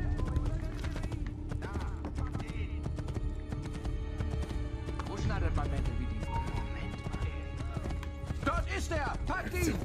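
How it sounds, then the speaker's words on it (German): A horse gallops with steady clip-clop hooves and neighs in Assassin's Creed 2, set under continuous game music and a voice talking throughout. "Pralinchen ist ein gutes Pferd."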